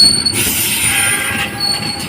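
Taksaka passenger train pulling into Cibatu station on track 4, a loud steady rumble of railcars with high wheel squeal running throughout, close by and with no voices.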